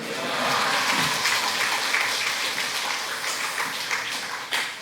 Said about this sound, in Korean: 우리 이동혜 선교사님 나오실 때 할렐루야 하면서 우리 뜨겁게 박수로 환영하도록 하겠습니다